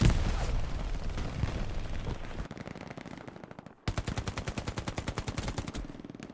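Sustained gunfire from the Hell Let Loose World War II shooter: rapid machine-gun bursts with individual shots, loud and close, rattling in a dense string, breaking off briefly and then resuming in a steady rhythmic volley.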